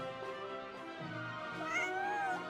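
A cat meows once in a Hoyoverse video game, a soft, drawn-out call rising toward the end, heard alone and fairly quiet.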